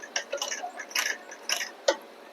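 A sewing machine runs a straight stitch along a half band collar on a kurti, giving a fast mechanical whirring chatter in short bursts that stops and starts, close and fairly loud.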